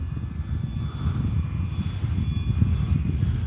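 An Arrows Husky RC plane flies slowly into the wind with flaps down, its motor a steady, moderately loud drone with wind buffeting the microphone throughout.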